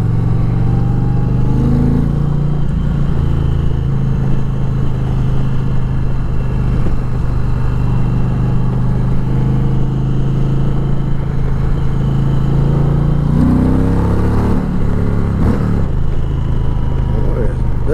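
An Indian Challenger, a heavy 900-pound touring motorcycle, accelerates with a steady, loud engine drone that rises in pitch around shifts, with wind rush throughout and no talk.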